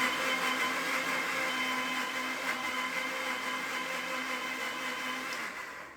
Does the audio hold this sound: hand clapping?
no